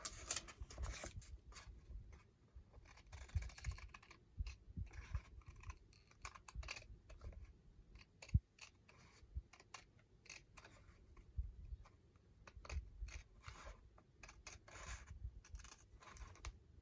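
Scissors snip through paper while an altered Christmas craft book is being made, giving small crisp cuts and rustles that come in irregular bursts at close range, with quiet pauses between them.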